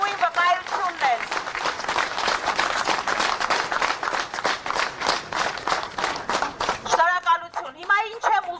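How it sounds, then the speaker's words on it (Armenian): A crowd applauds at a political speech in support of Gagik Tsarukyan: dense, sustained clapping for about seven seconds, loud and close. A voice is heard over the clapping at the start, and speech resumes as it dies away. "այս ծափերը դրանց լավագույն վկայությունն են"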